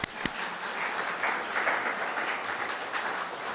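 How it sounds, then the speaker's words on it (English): Congregation applause at a Sunday church service during a San Miguel Alborada festival presentation, a steady, fairly distant wash of many hands clapping that holds evenly throughout, with one sharper clap near the start. "Let's give her one hand warm applause"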